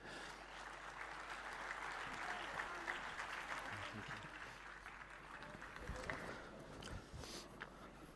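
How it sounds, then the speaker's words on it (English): Audience applause greets a panel walking onto a conference stage at a Cardano DeFi event: steady, dense clapping from a crowd that keeps going for several seconds before slowly thinning out, heard fairly quietly. "give them a huge round of applause as we welcome them to the stage"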